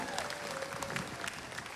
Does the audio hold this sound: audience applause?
yes